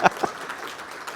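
An audience applauds at a tech conference talk, a short burst of clapping with a couple of sharper claps at the start before it settles into a softer steady patter.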